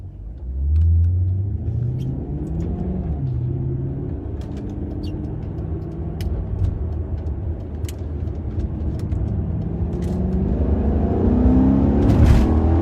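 A Maserati GranTurismo engine rumbles and revs under acceleration, a steady close engine drone that rises and swells with pitch sweeps, alone with no voices.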